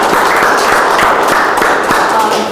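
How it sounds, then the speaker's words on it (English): Loud, dense applause from a gallery audience during an artist talk, many hands clapping together in a continuous close burst that holds steady to the end. "let's all give Danielle a round of applause"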